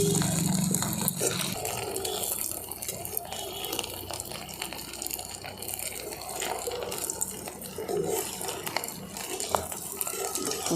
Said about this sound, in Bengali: এরকম ধরে একটুখানি এরকমভাবে আমি নাড়িয়ে দেবো পিঠেগুলোকে